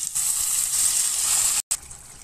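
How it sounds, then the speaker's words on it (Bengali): Water pours into a pan of spiced potato and pointed gourd for a prawn curry, making a steady bright hiss that stops for a moment and then resumes briefly. "আন্দাজ মতন জল দিয়ে দিচ্ছি, একটু ঝোল একটু মাখা মাখা থাকবে। জল ঢেলে দিলাম।"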